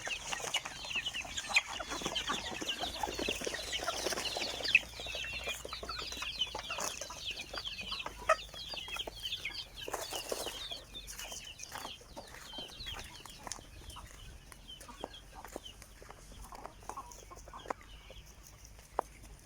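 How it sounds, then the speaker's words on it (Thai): Free-range backyard chickens feed in the evening, giving a steady chorus of clucks and chirps across a garden, faint and somewhat distant, with no talking. "ให้อาหารไก่ช่วงเย็น"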